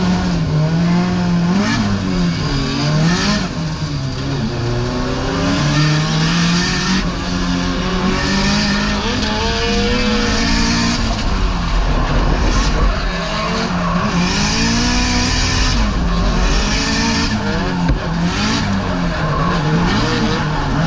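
Drift car at a night drift competition final, engine bouncing off the limiter while the rear tyres squeal and skid continuously. Loud, sustained revving rises and falls in waves for about twenty seconds with no talk.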